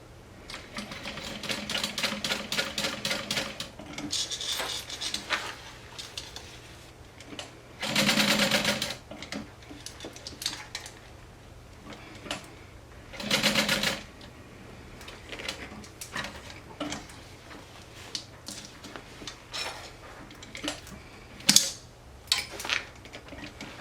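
A sewing machine top stitches a fabric fanny pack in several separate bursts of running stitches, with quiet pauses and small handling clicks between them.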